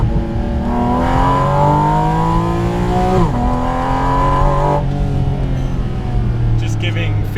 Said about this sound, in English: That sounds like a pure race car.